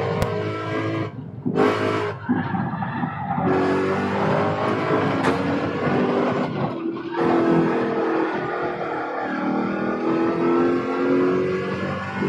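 A Corvette engine in Gran Turismo 7 revs hard on the Barcelona circuit, a loud, continuous roar that climbs and drops through gear changes, with brief gaps between pulls and faint tire noise.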